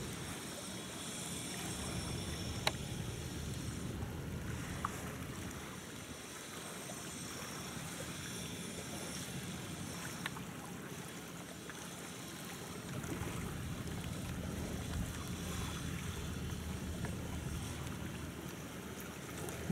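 A small river trawling boat without a cabin runs steadily on the water at high tide, its low engine drone and water wash continuous and fairly distant, with no voices.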